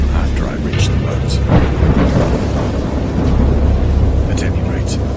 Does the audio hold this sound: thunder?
yes